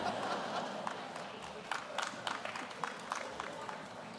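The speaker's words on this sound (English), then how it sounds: "Clap for her for next year" A commencement audience at a university architecture, planning and design ceremony gives a quiet, fairly distant round of clapping, with sparse individual claps standing out over a murmuring crowd.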